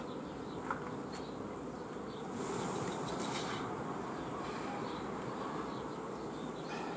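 Honey bees buzz steadily at a beehive that holds a honey-filled super, a dense continuous drone close by and alone, swelling slightly louder midway before settling back.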